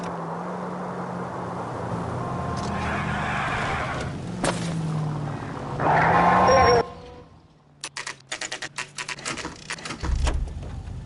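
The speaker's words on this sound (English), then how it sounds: "That's the car, Cole. Just pulling out of the drive." In the LA Noire video game, a car engine hums steadily as it pulls out of a driveway. A tire squeal rises near the end, then gives way to intermittent rattling sounds.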